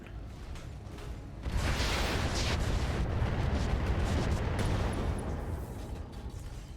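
Heavy weapon fire and impacts from a mech battle in the RogueTech video game, a loud sustained rumbling barrage of blasts that swells after the first second and holds steady throughout.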